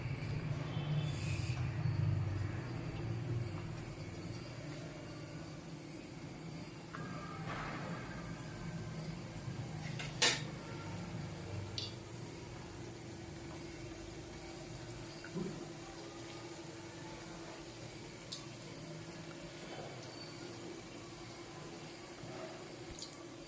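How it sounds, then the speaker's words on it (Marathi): Karanji pastries deep-fry in hot oil, giving a steady, close, even sizzling hiss that runs throughout with a few faint clicks and pops. No one speaks. "आपण आता तळून घेऊया तेल तापलेलं आहे"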